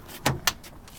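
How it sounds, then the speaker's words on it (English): The right rear door of a 2011 Chevrolet HHR opens with two quick, sharp clicks of the latch and hinge, close and fairly quiet against a hushed background. "Right rear door."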